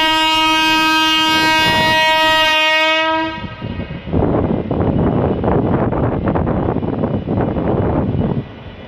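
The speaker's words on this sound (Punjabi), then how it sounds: "ਟ੍ਰੇਨ ਨਿਕਲ ਚੁੱਕੀ ਹੈ।" A passenger train carrying migrant workers departs, its loud sustained horn blaring for about three seconds before giving way to rumbling, rhythmic clatter of wagons rolling past close by.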